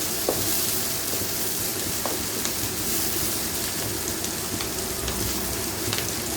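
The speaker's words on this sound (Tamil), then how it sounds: "வெங்காயத்துலேயே வந்து அந்த வதங்குறப்ப கொஞ்சோண்டு உப்பு போட்டோம் அப்படின்னா நல்லா வதங்கும்" Salted onions sauté in hot oil for a South Indian vanjaram fish kuzhambu, giving a steady, close sizzling hiss throughout with a few faint crackles and no talking.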